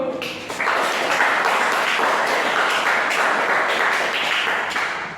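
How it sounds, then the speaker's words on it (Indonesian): A classroom group of students applauds after a short PLC programming practice session, dense steady clapping that swells quickly and holds at a loud, even level throughout. "Tepuk dulu."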